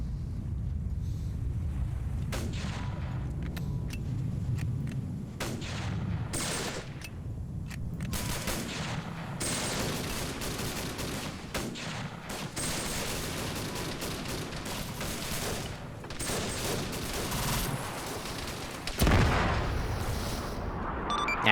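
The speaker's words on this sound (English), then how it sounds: "Yeah, so air just hit it with a gun run." Aircraft gun run strafing in a Vietnam war video game: a long stretch of rumbling, crackling bursts of heavy gunfire and distant blasts, dense and continuous, with a sharper impact near the end.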